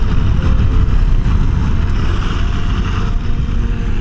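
A Kawasaki Ninja H2SX motorcycle tows a skier along Elvington runway: a loud, steady engine roar mixed with heavy rushing wind noise, continuous with no voices.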